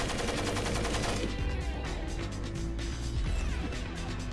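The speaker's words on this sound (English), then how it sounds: "Let me try lobbing a frag in there." A frag grenade blast erupts in the Splinter Cell game, a loud dense roar of crackling explosive noise and rattling gunfire that fills the whole moment without pause.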